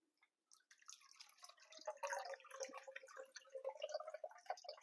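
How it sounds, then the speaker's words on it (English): Water trickling and dripping out of a mould holding recycled paper pulp, a soft, continuous patter of small drops and streams, faint and close, with no voices. "Just let your water drain out."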